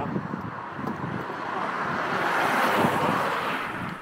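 Strong wind gusts buffet the microphone outdoors at a motorhome meet in Vadstena, producing a continuous broadband roar that swells toward the middle and stays loud and close throughout, with no talk.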